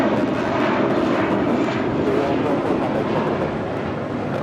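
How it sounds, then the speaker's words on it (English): An Airbus A319 jet airliner at LAX, Los Angeles International Airport, gives a steady, loud broadband roar that holds evenly throughout, with no talk over it. "After seeing so many 777s, seeing an A319 looks so small."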